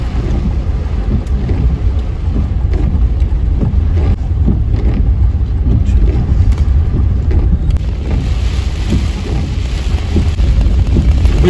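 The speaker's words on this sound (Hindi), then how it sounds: "बहुत ज्यादा तेज बारिश हो रही है" Heavy rain pounds a car driving through Udaipur, a dense, loud and steady roar of water and wind noise that fills the whole stretch with no talking.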